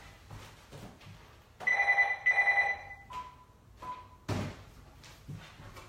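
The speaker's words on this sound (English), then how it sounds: "It's so funny that my home phone is ringing because no one even knows our landline" Home landline telephone ringing indoors in two electronic trilling bursts, fairly loud and close, with a few thuds and room noise around them and no talk.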